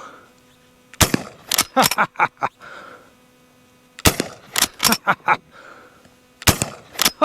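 An old Winchester rifle fires smokeless ammunition outdoors at a target, giving three sharp, loud reports about three seconds apart, each followed by rapid echoing cracks and a short ringing tail.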